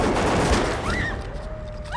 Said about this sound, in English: is it actually canon that they are shooting blanks at each other?